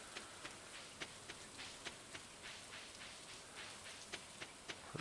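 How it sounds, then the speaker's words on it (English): Rain falling in the farming video game Stardew Valley, a soft steady patter with scattered louder droplet ticks, quiet and continuous with no speech. "Marty puts her cows out in the rain"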